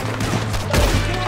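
Gunfire rings out in Red Dead Redemption 2 in a quick cluster of loud, booming shots over a rumbling game background.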